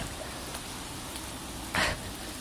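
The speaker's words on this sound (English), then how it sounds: "This is fucking rivers just falling through the sky and that." Heavy rain pouring down outdoors in Scotland, a dense, steady hiss of falling water throughout, with a brief louder splash or gust near the end.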